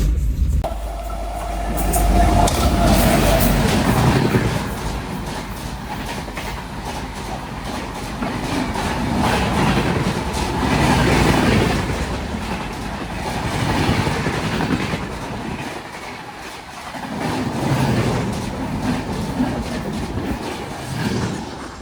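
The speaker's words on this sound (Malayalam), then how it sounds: "എറണാകുളം നിസാമുദ്ദീൻ എക്സ്പ്രസ് ആണ് പോയത്." The Ernakulam–Nizamuddin Express passes close by on the Konkan Railway in a loud, sustained roar with rhythmic clickety-clack of wheels over joints, the noise surging and ebbing in waves as the coaches go by.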